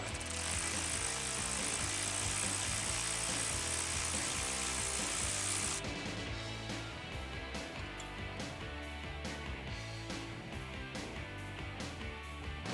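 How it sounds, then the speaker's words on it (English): Power tool driving a 13mm socket to remove the belt tensioner from a 2011-2014 Mustang GT engine bay, a loud continuous buzzing run that cuts off midway, followed by quieter clicks and clanks of the tool and parts. "Next we're going to use the same 13mm socket and remove our tensioner."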